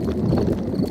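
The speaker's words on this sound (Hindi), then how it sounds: "ये डैडी के पेट की आवाज है।" Daddy Pig's stomach rumbles in a cartoon, a short, low, muffled growl that churns unevenly, close and fairly loud, alone without speech.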